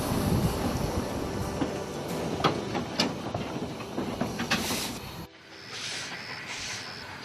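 Vintage Otavi Railway narrow-gauge steam locomotive nicknamed Kalahari, a dense chuffing hiss with sharp bursts of steam that cuts off abruptly to a quieter hissing tail, no talking.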